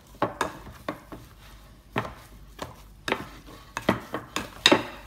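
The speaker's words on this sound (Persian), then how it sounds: "دوباره همش میزنم." A spoon stirs Olivier salad mixture with added lemon juice in a bowl, making irregular close clinks and scrapes in uneven bursts, with no talking.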